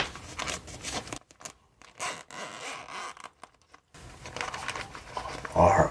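Zipper on a milk carton gift box being pulled open, several short close raspy zipping strokes separated by brief pauses, soft and intimate in a quiet room.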